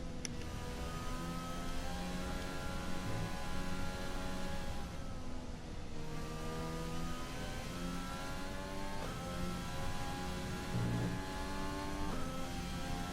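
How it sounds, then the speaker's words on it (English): Formula 1 car on a lap of Suzuka in F1 2020, its engine droning loudly and continuously at high revs, pitch climbing through gears with quick shift dips and short lifts, no talk. "I'm going to be quiet so you can listen to the engine."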